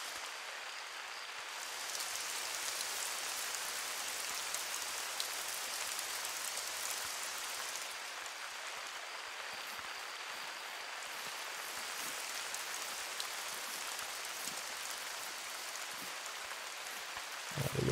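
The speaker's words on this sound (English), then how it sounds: "Oh, the rain sounds so good." Rain falling in the video game theHunter: Call of the Wild, a constant soft wash of rainfall with dense patter, steady throughout, with no voices.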